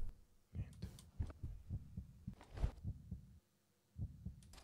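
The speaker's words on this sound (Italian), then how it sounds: "mi sembra aumentato il battito" A heartbeat in the horror video game Ergastulum, soft paired thumps in a steady rhythm, quiet and muffled, pausing briefly before resuming.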